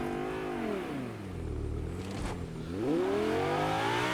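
A car engine in the Fortnite video game revs steadily, its pitch dipping midway and then climbing again as the engine picks up, loud and close with no voices.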